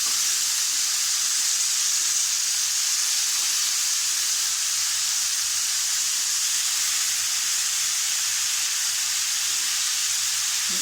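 Raw banana bhaji with turmeric sautés in a pan, giving a steady even sizzle and hiss that holds unbroken for the whole stretch with no talking.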